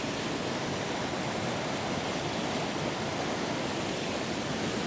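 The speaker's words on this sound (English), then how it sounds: "listen to the sounds of the waterfall." Chiquito Falls, a waterfall along a creek trail, gives a steady, even rushing roar that fills the whole clip without pause, soft and unvarying, with no voices over it.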